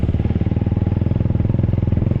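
A motorcycle engine running on a ride out to the rice fields, a loud close pulsing drone with a fast steady rhythmic throb that holds without a break, with no talking.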